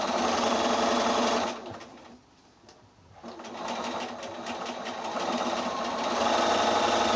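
A sewing machine runs fast and steady while stitching rows on a quilt block, close and loud, easing off briefly in the middle before speeding up again.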